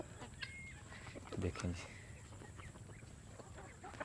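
Broiler chickens and roosters clucking while pecking at onions spread on open farm ground, with scattered soft clucks and a few sharper calls, someone speaking briefly over them.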